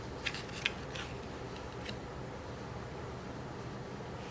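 Scissors cut through a card flap on a handmade barn-door fold card, making two or three quick close snips at the start over a quiet steady room hiss.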